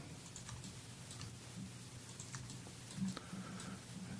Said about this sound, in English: I'm going to have to hit Q on my keyboard.